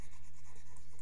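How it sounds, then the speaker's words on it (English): A marker eraser rubs across a classroom whiteboard in a steady, continuous scrubbing swish with slight rhythmic swells, close and fairly loud, with a low hum underneath. "I'm just going to erase this"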